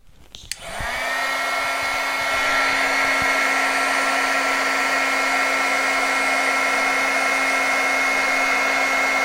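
Heat embossing tool switching on and blowing hot air, a sharp start followed by a loud, steady whirring hum with a constant motor whine.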